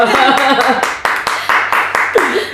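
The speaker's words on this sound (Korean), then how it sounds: "볼 때마다 자랑스러워서 박수 한번 더 치고 갈게요" Steady, fairly loud hand clapping at a lively rhythm, heard during a celebratory interview with a former student who passed the public kindergarten teacher exam; speech runs over the claps.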